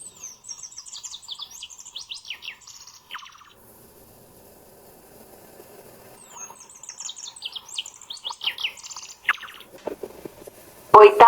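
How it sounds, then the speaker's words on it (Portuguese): Song of the shiny cowbird (chupim): rapid bursts of high, liquid chirps and whistles in two phrases separated by a quiet gap, then a loud low thump at the end. "Agora veja o canto do chupim."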